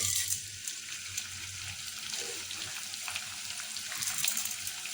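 Pieces of edible gum fry in hot ghee, with a continuous crackling sizzle and light bubbling close by, steady throughout without any talking.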